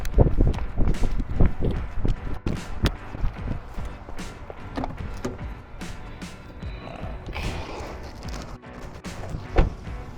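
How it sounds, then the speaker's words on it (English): Footsteps of a person walking around the corner to a store outdoors, a run of crisp, fairly close steps with irregular spacing, some heavier hits, and light background noise. "This is the shot of me walking around the corner to the store."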